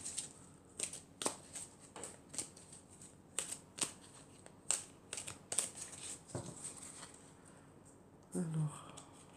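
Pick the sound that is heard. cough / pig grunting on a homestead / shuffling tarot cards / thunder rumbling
shuffling tarot cards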